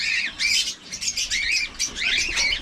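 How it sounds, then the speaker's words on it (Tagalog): A bird squawks loudly and repeatedly close by, harsh calls coming in quick bursts with wing flapping mixed in. No one speaks. "Napaka-cute sa ating ibon."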